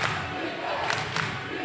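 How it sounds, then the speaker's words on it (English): Crowd noise fills a high school basketball gym during a Baldwin Bulldogs vs. Bonner Springs Braves game, a steady roar of voices with a couple of brief louder swells. "Crowd making noise."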